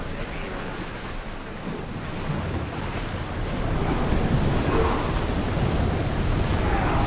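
A sailing ship cutting through ocean waves in Assassin's Creed Odyssey, steady broadband wash of surf and wind that swells slightly louder partway through, with no voices over it.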